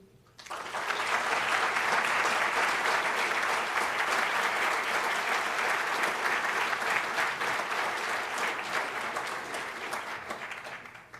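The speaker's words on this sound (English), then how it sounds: "Please join us in one last round of applause for the Class of 2019 Public Affairs Hall of Fame inductees" Sustained audience applause for Army Public Affairs Hall of Fame Class of 2019 inductees at an awards ceremony, a dense, steady wash of many hands clapping that swells quickly and holds loud for about ten seconds before easing off.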